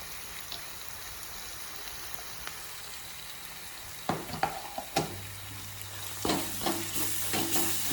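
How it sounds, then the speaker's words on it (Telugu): Hot oil spits and crackles in a pan of masala rice with garam masala powder, a steady low sizzle broken by sharp pops that grow busier and louder in the second half. "ఈరోజు చిటుకులు పటా పటా పడుతున్నాయి"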